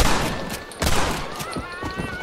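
Gunfire from shooting bobcats in Red Dead Redemption, a quick volley of loud, close shots in rapid succession over game ambience, with no talk.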